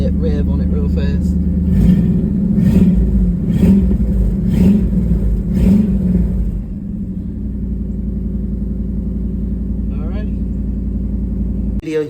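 A Ford Maverick engine revs about five times in a steady, rhythmic series of throttle blips, then drops back to a loud, even idle rumble close by.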